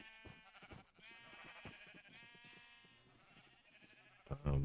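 Several Minecraft sheep bleat repeatedly, overlapping wavering baas at close range, with a sudden louder thump near the end.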